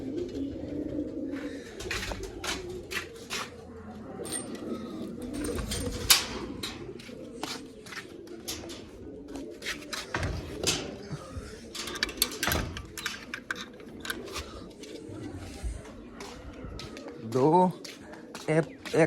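Pigeons coo in a loft, soft repeated throaty calls close by with scattered clatter of dishes and a door, while someone talks intermittently in the background.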